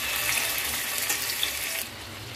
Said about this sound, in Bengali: চিকেনটা ধুয়ে নেব।